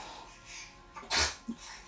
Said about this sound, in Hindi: को छींके आ रही हैं, आप लोगों को भी सुनाई दे रही होंगी।